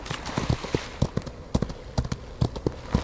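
Horse hooves clip-clopping in a rapid, uneven gallop in the Old West video game Outlaws of the Old West, with repeated sharp thuds from jumps, fairly near and without talk.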